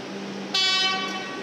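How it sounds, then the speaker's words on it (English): A Metro Melbourne train runs through North Melbourne station on a Flemington Racecourse service, with a steady low rumble and a sudden loud horn blast that rings out for about half a second, then fades. "we are going to film this train. This is a Flemington Racecourse service"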